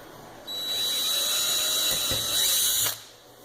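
A power drill whirs steadily at close range for a few seconds, drilling about 3/16 inch into an N54 fuel pump assembly, its pitch dropping slightly as it bites in before stopping.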